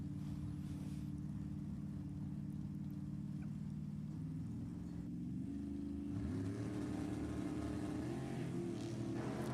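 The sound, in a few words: drag race cars, Chevrolet Vega and Camaro, at Sacramento Raceway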